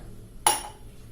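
A single sharp metallic clink as a plate of rice-flour dumplings is set down into a metal pan of water for steaming, ringing briefly before fading over a soft background hum.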